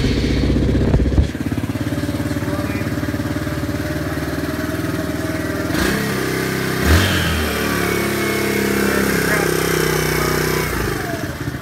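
A 2007 Suzuki DR200 motorcycle engine fires up and runs, a loud, close, steady single-cylinder chug with brief blips of revving, while a person talks over it.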